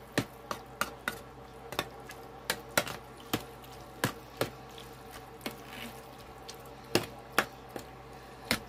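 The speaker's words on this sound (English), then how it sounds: "I'm going to add my milk so that it's creamy as that cheese melts. Stir it all up together." A spoon stirs milk into baked mac and cheese made with sharp cheddar, producing quiet, steady scraping with regular sharp taps against the dish, alone without talk.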